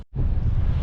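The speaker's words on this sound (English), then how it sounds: "all of a sudden she got really windy" Strong wind on open water while jigging for trout and salmon buffets the microphone in a loud, steady rumbling roar after a brief moment of quiet.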